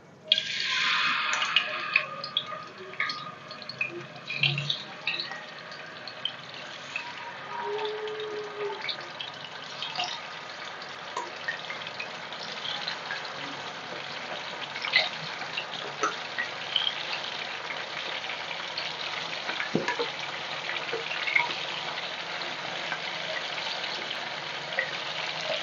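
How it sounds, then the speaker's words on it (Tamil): Marinated chicken pieces for a Chinese chicken gravy sizzle and crackle in hot oil in a pan, a steady close frying hiss that carries through the whole stretch with scattered pops and no talking. "சிக்கனை இதில் எண்ணெயில் போட்டுடலாமா"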